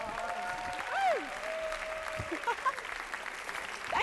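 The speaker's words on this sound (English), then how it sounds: "give a large hand of applause to your host" Applause from a comedy gig audience welcomes the host, a faint continuous patter of clapping beneath a voice talking and some whistle-like tones.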